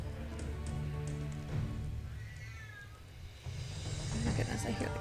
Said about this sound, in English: Oh my goodness, I hear the cat.